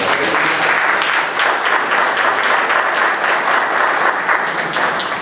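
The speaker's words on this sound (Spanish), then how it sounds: "Dale un aplauso al Señor de nuevo." A church congregation at an evangelical service in Miami claps together in steady, loud applause with a pulsing rhythm that continues evenly.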